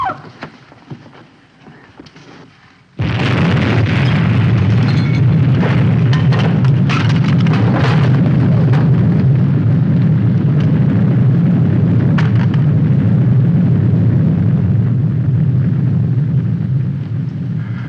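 A huge explosion and rolling shockwave from a 1950s television drama erupts after a few seconds of quiet, then roars as a loud, sustained rumble that stays dense and heavy to the end.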